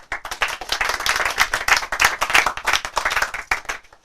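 Live audience claps in welcome for an electronic music producer at a music college master class, a lively burst of many hands that stays strong and even before trailing off at the end.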